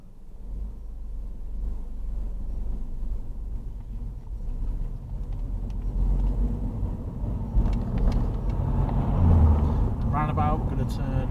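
Car on a driving test pulling away from the left-side kerb and driving on, engine and road rumble rising steadily as it gathers speed, with wind noise and a few faint clicks.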